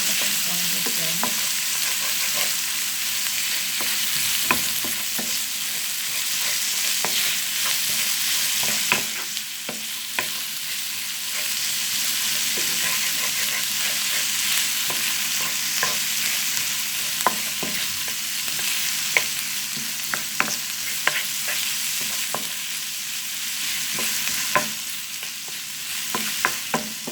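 Onion and vegetables sizzle steadily in hot oil in a pan, a loud continuous crackle broken by the occasional scrape and click of stirring.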